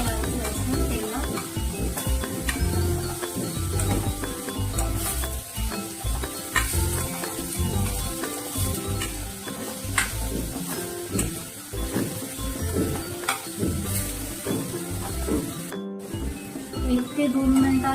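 Green beans and potatoes sizzle in hot oil in a pan while being stirred, with a continuous fizzing crackle and repeated scraping and clinking of the spoon, close and fairly loud, as a voice talks over it.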